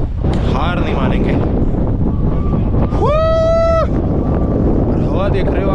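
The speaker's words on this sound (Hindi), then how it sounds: "और हवा देख रहे हो आप भाई, गंदी वाली हवा चल रही" Strong gusty wind on a Himalayan mountain trek at Kuari Pass, loud buffeting roar against the microphone throughout, with someone speaking over it and a brief rising voice-like tone in the middle.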